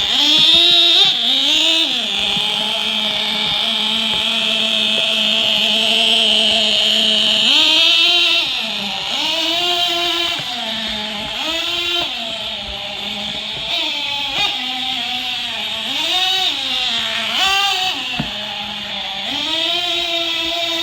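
A nitro-powered Mini-B RC car engine runs at close range with a loud, buzzing, high-pitched whine, repeatedly revving up and dropping back in short throttle blips over about twenty seconds.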